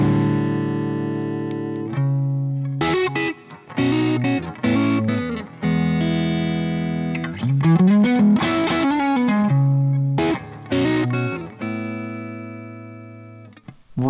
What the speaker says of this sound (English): Really, really, really sweet overdrive sound.